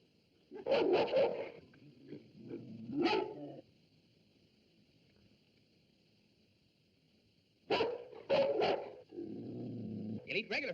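A dog barks in two loud bursts of yips and barks, near and sharp, with a gap of quiet between them and a steady growl-like rumble at the end.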